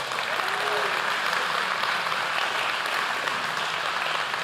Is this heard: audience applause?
yes